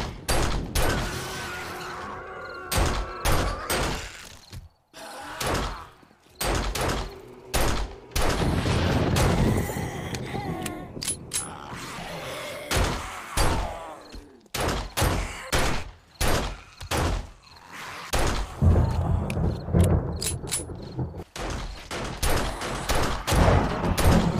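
Gunfire in the zombie survival game 7 Days to Die, sharp loud shots in irregular bursts and single cracks spread across the stretch, close and punchy, with brief gaps and some mechanical clatter between them.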